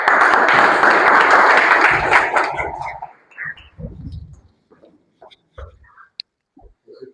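Applause from the audience at a Toastmasters club meeting, a dense burst of many hands clapping that lasts about three seconds and then trails off into scattered claps and small room noises.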